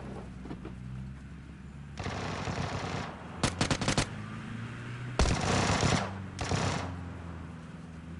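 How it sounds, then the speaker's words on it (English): Automatic weapon fire in PUBG, with dense sustained bursts alternating with rapid short volleys, loud and close, over a low game ambience. "Someone's shooting at me?"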